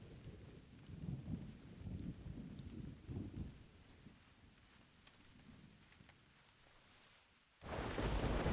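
Heavy rain falls in theHunter: Primal, a steady broadband wash that swells loudly at first, eases to a softer hiss, then surges back to a loud downpour near the end.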